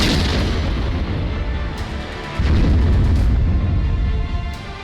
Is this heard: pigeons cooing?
no